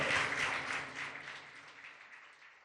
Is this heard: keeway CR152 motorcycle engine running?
no